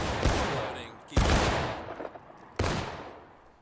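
Three loud, sharp gunshot bursts ring out close by during an outdoor military-style training exercise, each with a decaying echo tail, spaced roughly a second or more apart, with faint voices between shots.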